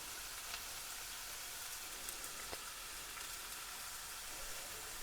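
Onions sweating in a pan for a chicken burger and veggie stroganoff, giving a steady, faint broadband sizzle with a few small crackles, close by and alone, with no talking.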